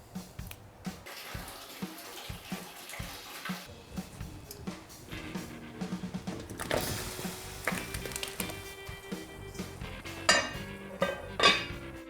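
Grilled green beans and shishito peppers are tossed together in a bowl with utensils, giving soft clinks, scrapes and wet stirring sounds that build to sharper metallic taps, close and quiet with no speech.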